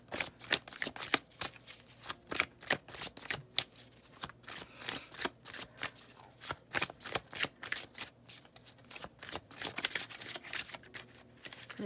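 Oracle cards being shuffled by hand, a steady run of crisp riffling snaps and soft flutters repeating close up for several seconds, with no voices.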